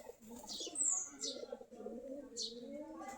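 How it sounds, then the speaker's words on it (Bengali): Local Giribaz pigeons cooing softly and repeatedly at close range, with a few brief high chirps over the low murmuring calls. "এই যে আমাদের দেশি গিরিবাজ কবুতর"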